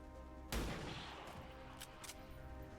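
A single sharp gunshot in XCOM 2, a loud crack with a decaying boom, followed by a few fainter impact pops.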